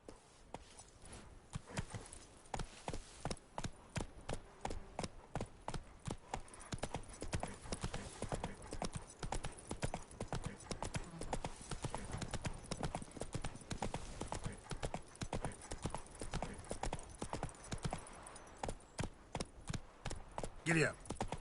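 Horse hooves in The Witcher 3 clip-clop in a steady, rapid rhythm throughout, close and clear, with occasional soft snorting.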